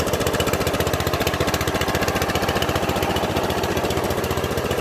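A Troy-Bilt Suburban riding mower with a Kohler Command 14HP engine runs up close and loud, its steady rapid chugging pulse unbroken throughout with no talking.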